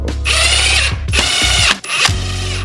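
A power drill whirs in three short bursts, driving screws into a statue display case with rising pitch and brief pauses between each fastener.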